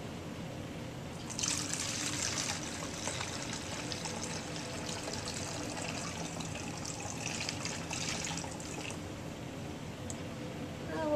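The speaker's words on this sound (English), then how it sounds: "You're going to take your water and add it to your empty bottle." Water tinted with food coloring is poured through a funnel into an empty bottle for a lava lamp experiment, making a soft, steady trickle that runs for several seconds before tapering off.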